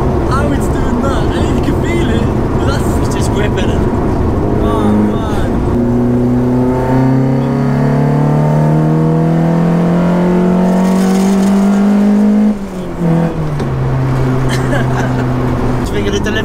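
A turbocharged 220bhp Peugeot 205 GTI accelerates hard from inside the cabin, its engine note climbing through several gears with brief dips at each shift. Loud road and engine noise runs throughout, and voices speak over it.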